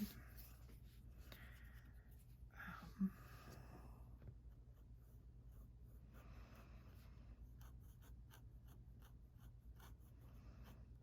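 A Lamy Safari fountain pen with a left-handed nib scratching across paper in a quiet room, a faint continuous scraping with brief strokes and pauses, one small tap near the start, no voices.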